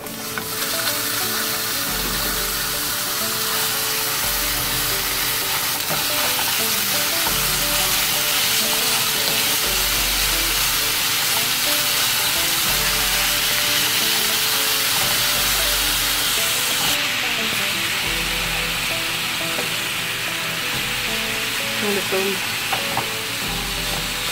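Ground beef frying with onion and garlic in a hot pan, a loud continuous sizzle with rhythmic stirring scrapes throughout, close and steady.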